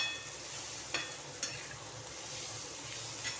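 A pan of paneer bhurji with spiced masala sizzles softly as tomato goes in, a low steady frying hiss broken by a few light clicks of a spoon, with no voices.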